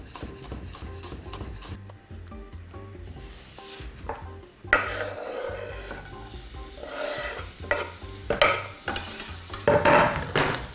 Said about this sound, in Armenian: Սոխը տապակելու ենք բուսայով։